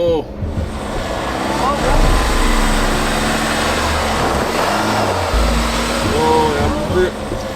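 A Volvo XC60 with air suspension crawling up rough off-road ground, its engine droning and straining steadily under load, rising slightly in pitch toward the end.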